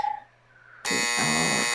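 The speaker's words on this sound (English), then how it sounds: "So the timer just buzzed" A game show's loud electronic timer buzzer blares suddenly and holds steady as a harsh, sustained tone after a brief quiet moment.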